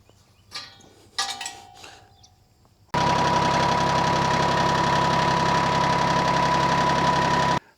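A few faint knocks and clatters, then a tractor engine starts and idles steadily, loud and close, with a constant low rumble and throb.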